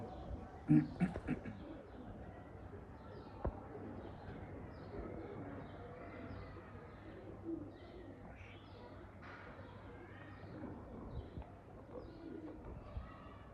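Breeder pigeons in Hanjarwal cooing softly at a distance, with low murmuring calls scattered over a faint steady hum and an occasional sharp tap, with no clear talk.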